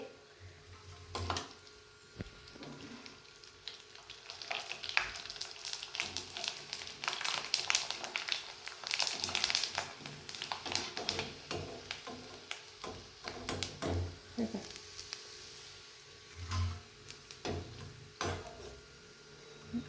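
Kurdai and potato chakli fry in a kadai of hot oil, giving a steady crackling sizzle with scattered sharp ticks and pops that swell and fade, fairly quiet and close.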